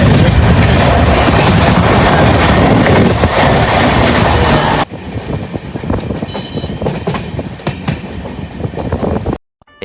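A passenger train runs on a journey from Kalburagi toward Puri, heard from inside or beside the carriages as a loud continuous roar with clickety-clack rhythm, then softening partway to a rattling hum before cutting off.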